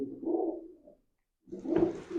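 Pigeons kept in a loft murmur low throaty coos close by, one soft rolling call fading out, a second of silence, then a fuller, louder coo.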